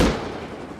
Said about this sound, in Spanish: Va un tiro, eh.